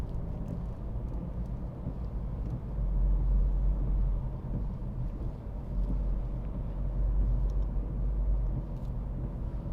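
A 2009 BMW 3 Series 318D SE diesel automatic drives along town roads, its engine and tyre noise a steady low rumble heard from inside the cabin, swelling slightly now and then.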